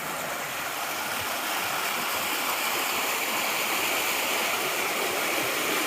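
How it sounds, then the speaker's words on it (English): Fox Creek rushes along the Appalachian Trail in a continuous, broad, even wash of flowing water, steady and fairly loud throughout with no voices. "We have arrived at Fox Creek."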